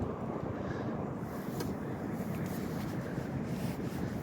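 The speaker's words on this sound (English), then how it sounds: "the wind's blowing straight in towards me now" Wind buffets the microphone outdoors at a shooting range, a low, continuous rumble with slight gusting and no other clear sounds.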